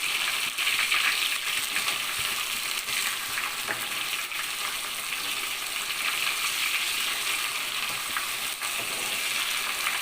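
Masala-coated mushroom pakodas deep-frying in oil hiss with a dense, even sizzle that holds steady and close throughout, with no talking.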